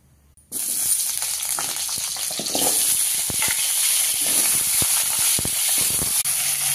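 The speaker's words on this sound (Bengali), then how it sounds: "এখন আমি আলুটা ভেজে নিবে।" Potatoes for chicken kosha drop into hot oil, setting off a sudden loud hiss after a brief silence that settles into a steady, bubbling sizzle with scattered crackles.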